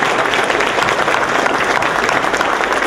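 A crowd gives sustained, dense applause for local Clark Ambulance EMTs and paramedics at an awards presentation, a steady wash of clapping that holds level throughout without voices.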